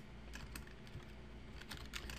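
Close, quiet typing on a computer keyboard, with a steady patter of light key clicks and a few louder taps over a faint background hum.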